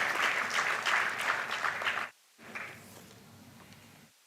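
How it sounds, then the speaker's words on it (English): An audience at an inaugural student induction event applauds for Mr. George Verghese, a full, steady round of clapping that cuts off abruptly, then resumes more quietly and thinner before fading. "A big round of applause for Mr. George Verghese"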